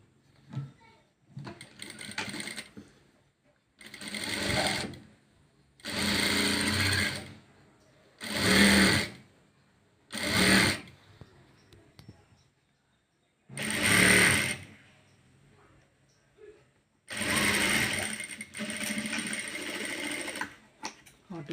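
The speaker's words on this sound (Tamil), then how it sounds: "அடுத்தபடியாக இதை ரெண்டாம் அடித்து ஒரு தையல் போடுவோம்" Sewing machine stitching scrap fabric for a hair band, running in repeated short bursts of rapid mechanical whirring separated by brief pauses, close and fairly loud.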